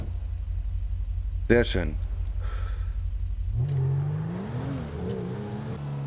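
A car engine in GTA 5 cranks and catches, then revs up and settles into a varying mid-pitched run, loud and close, with a brief spoken remark near the start.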